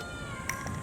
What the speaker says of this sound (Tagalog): Ayan yung pusa o kawawa naman.